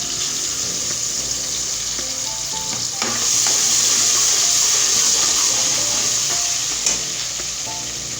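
Garlic ginger paste hits hot oil in a pan, setting off a loud, continuous sizzle and crackle that swells midway and keeps frying steadily, with faint stirring underneath while preparing black chana pulao.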